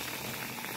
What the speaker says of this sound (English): And boil the spaghetti in water